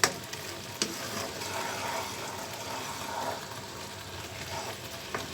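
Chhana (cottage cheese) cooking in a pan on low-medium heat for sandesh, giving a soft, steady sizzle with a few sharp clicks from stirring.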